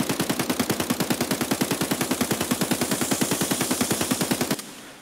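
Rapid automatic gunfire in Escape From Tarkov, a steady train of about fifty loud, evenly spaced shots over four and a half seconds that cuts off abruptly into near silence.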